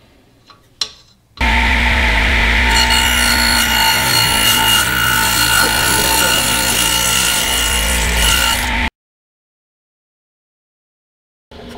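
A wobble dado blade cuts into wood, producing a loud, steady, rasping whine for about seven seconds. It starts abruptly after a couple of faint knocks and cuts off sharply into silence.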